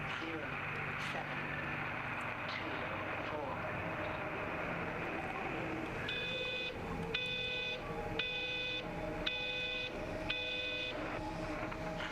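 A series of five evenly spaced electronic beeps from the video game Everybody's Gone to the Rapture sounds over steady background hum, each short and bright.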